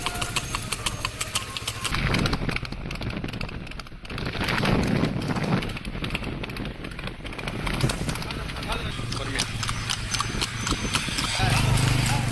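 Rekla race horses in Mayiladuthurai, Tamil Nadu, out on morning exercise for the Pongal cart race: a steady clip-clop of hooves runs throughout, with an engine humming and people talking over it.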